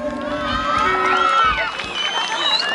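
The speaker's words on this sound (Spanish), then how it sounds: "¡Que se escuchen los aplausos!" Crowd at a jaripeo rodeo in a rural Mexican ranch, cheering, shouting and whooping with children's voices mixed in, a lively close-up roar over a few seconds.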